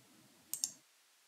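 Two quick, light clicks of a computer mouse close together over faint background hiss, soft and near, with no talking.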